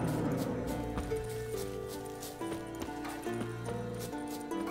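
Horse hooves clip-clopping in The Witcher 3, a steady rhythmic trot set against continuous game music, moderately loud and without speech.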